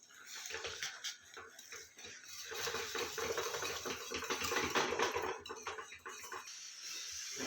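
Rice dough for khichiya papad is stirred and scraped in a pot, giving soft, irregular clinks and wet sloshing that build in the middle and ease off toward the end.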